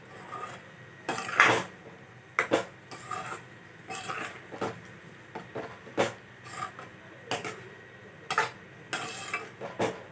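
A spoon stirring paneer butter masala in a pan, irregular scraping and clinking strokes against the metal, close and fairly loud, with pauses between bursts.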